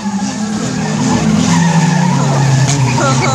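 Junior banger race cars skid and squeal at Barford, loud close tire screeching and engine drone with rising pitched squeals near the end, accompanied by faint voices.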